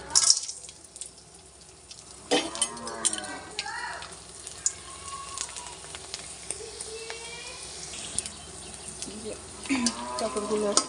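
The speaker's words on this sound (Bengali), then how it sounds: "পাঁপড়গুলো একটু লাল লাল করে ভেজে নেব।" Papad frying in soybean oil in a wok, a soft sizzle running under intermittent bursts of talk, with scattered clinks and stirring sounds.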